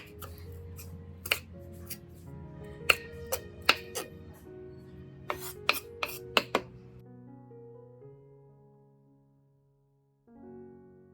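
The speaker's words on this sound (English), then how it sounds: "Chop the potato peels finely," A knife chops potato peels on a cutting board in a quick series of sharp taps, then stops, over soft background music.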